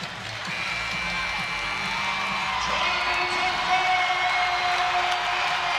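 Crowd at a UC San Diego vs UCLA college volleyball match roaring and whooping in a sustained, loud wash of cheering near set point, with no break in the noise.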